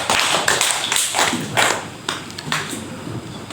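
A classroom group claps for a student, a burst of irregular, fairly loud hand claps and taps with no voices.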